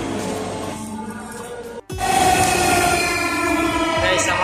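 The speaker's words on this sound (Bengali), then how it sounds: "আমাদের ট্রেন ইতিমধ্যে চলে আসছে।" A Dhaka metro rail train pulls into Karwan Bazar station, a steady rumbling whine with a brief dropout, then a louder sweeping tone as it comes close and slows along the platform.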